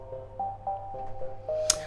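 Soft, floaty synth arpeggio in a music production project, a quiet run of clean bell-like notes rising in steady steps and heard alone.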